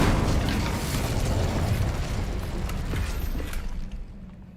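An Incendio fire spell in a Harry Potter video game gives off a loud whooshing, rumbling blast that slowly fades away, heard alone without talk.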